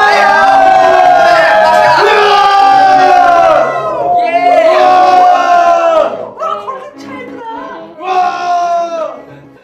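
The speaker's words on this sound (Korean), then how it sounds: "함성" A loud crowd cheers and shouts in sustained bursts of voices, swelling, dropping off around the middle, then rising again in shorter waves.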